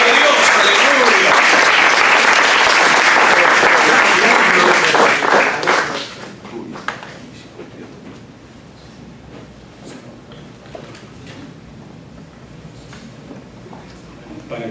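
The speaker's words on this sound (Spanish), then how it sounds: "Demos un aplauso al Señor." A church congregation applauds loudly and densely for about six seconds, then the clapping dies away into a quieter room with scattered faint noises.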